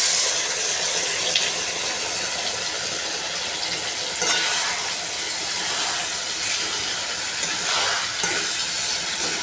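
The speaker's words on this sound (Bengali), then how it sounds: "তারপর পেঁয়াজ ভেজে মশলাটা কষাতে দেবো" Potatoes and onions frying with spices in a hot pan, a steady loud sizzle and hiss with occasional stirring scrapes, heard close and alone with no talking.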